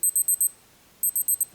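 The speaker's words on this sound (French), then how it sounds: "quand le timer il va arriver à 0, et ben, elle va se mettre à biper et à flasher" A Casio W-202 digital watch timer beeps at zero: two bursts of four quick, bright electronic beeps separated by a short pause, close and clear with no talking.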